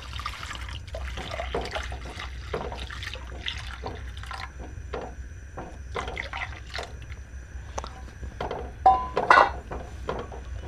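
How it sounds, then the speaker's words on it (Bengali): Milk is stirred a little at a time into melted sugar in a pan for homemade curd, giving close liquid sloshing and dripping with light spoon scrapes and no talking. "এবার আমি অল্প অল্প দুধ দিয়ে মেশাতে থাকবো"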